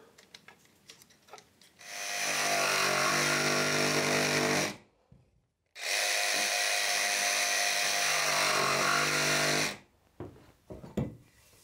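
Small hand saw cutting wood while building a dugout shelter in the mountains: two long, steady bursts of rapid rasping strokes, close and loud, separated by a short pause, with faint handling noises before and after.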